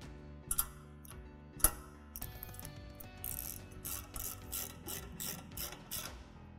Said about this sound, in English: All we need to now do is then put the locking bolts back into position.